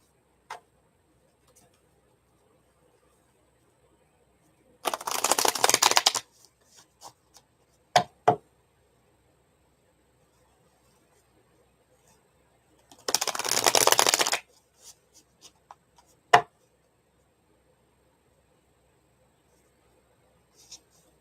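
Tarot cards being shuffled during a love reading: two long riffling bursts about eight seconds apart, each followed by a few sharp taps and clicks of cards being set down, close and with no voices over them.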